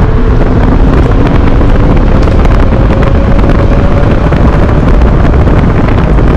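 KuKirin G4 2024 electric scooter with a 60V 20Ah battery ridden at full throttle in race mode, heard as a loud continuous roar of rushing wind buffeting the microphone, with a faint rising motor whine beneath.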